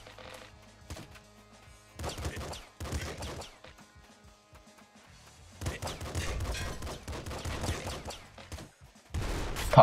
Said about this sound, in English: Pop gun.